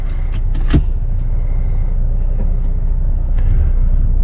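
Steady low engine drone and road rumble from inside a moving vehicle, loud and continuous, with a few brief clicks and knocks over the hum.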